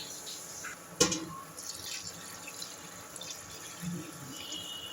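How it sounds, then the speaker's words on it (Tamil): Water runs and splashes steadily into a pot of rice for one-pot tomato rice, a soft continuous pour with light drips and one sharper clatter near the start, close and fairly quiet. "அரிசிக்கு தண்ணியை விட்டுடலாம்"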